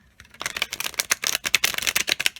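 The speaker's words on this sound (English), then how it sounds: "Let's give them a shuffle so you guys can see how well they shuffle." Luna Sol tarot cards being shuffled up close, a rapid run of crisp riffling clicks and flutters lasting a couple of seconds.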